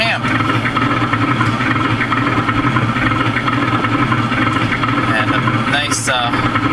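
A Sound Racer engine sound effect plays a steady idle meant to mimic a Pontiac Grand Am, a loud, continuous low hum with an even droning texture and a brief higher chirp near the end.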